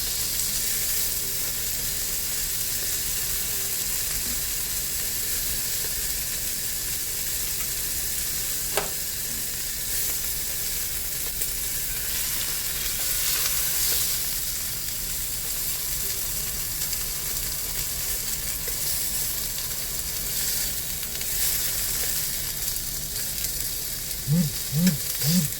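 Rice-and-broccoli coated chicken tenders fry in a pan with a steady, close, continuous sizzle and hiss that barely changes throughout, with no voices.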